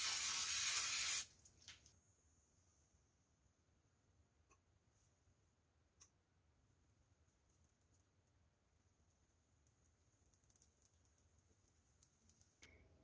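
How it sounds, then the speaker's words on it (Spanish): Cooking spray is sprayed onto a pan for pancakes in a single loud, steady hiss lasting about a second, followed by a quiet kitchen with faint background hum. "me gusta ponerle mantequilla o spray cada vez que hago uno"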